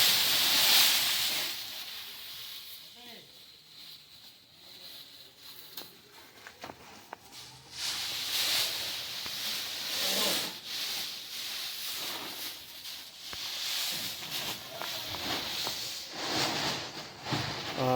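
Dried chilies rustle and scrape as they are pulled from a sack at a chili market on a char in Shariatpur, a steady close crinkling and rubbing with hissy texture throughout.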